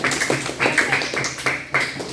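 Pupils in a classroom clap their hands in a series of short, uneven bursts, fairly close and moderately loud, with some voices mixed in.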